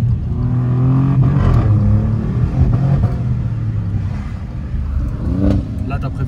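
An Alfa Romeo Giulia QV engine revs loud and close, rising and falling in a couple of throaty swells while the car drives, with voices talking over it.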